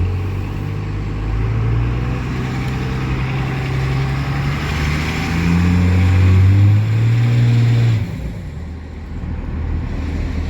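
A truck being test driven, a loud steady engine drone with rising and falling pitch as it accelerates through gears, heavy wind and road rumble, dropping suddenly near the end.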